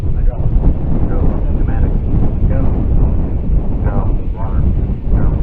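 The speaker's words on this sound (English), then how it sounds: "it is definitely getting really windy" Strong wind buffets the microphone at a Cygnus rocket launch viewing site, a loud continuous low rumble with gusty surges, while a person talks over it throughout.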